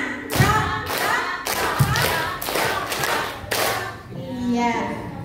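A group, likely children at an educational workshop, claps hands in counted bursts, several clusters of claps spaced evenly in rhythm, with voices mixed in between.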